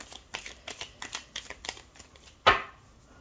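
Tarot cards being shuffled before the deck is cut, a run of soft rhythmic riffling flicks close by, ending in one sharper snap as the deck is squared.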